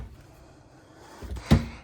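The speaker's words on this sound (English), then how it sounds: "And this is going to have the drawer down below." A drawer below a cast iron three-burner stove with a big oven in an RV kitchen slides open, a soft scrape ending in one short, fairly close knock, with quiet room tone before it.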